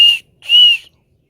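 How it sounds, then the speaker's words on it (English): Two sharp, shrill blasts from the whistle on the end of the SOL Origin survival kit knife: a short toot followed by a slightly longer one, loud and close, with silence after. "let's test the whistle"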